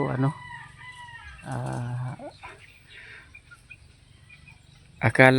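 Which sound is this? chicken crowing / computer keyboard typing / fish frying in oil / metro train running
chicken crowing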